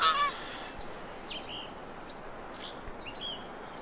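Ross's geese in the Hunting Simulator 2 video game, set in Colorado's Roosevelt Forest, give several faint, scattered honks over quiet ambient background after a brief louder sound at the start.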